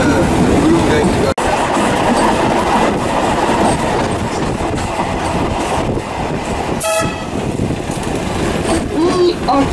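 A train rumbles steadily along the rails, loud and close, with a brief horn-like toot partway through and a voice faintly underneath.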